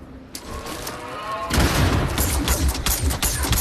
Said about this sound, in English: I just threw 2 grenades on those